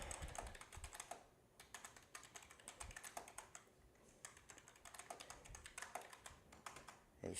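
Rapid, steady typing on a computer keyboard at close range, with irregular bursts of clicking keystrokes and brief pauses, no talking.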